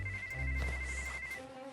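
A phone ringtone plays up close as a short electronic melody of sustained tones, with background noise underneath.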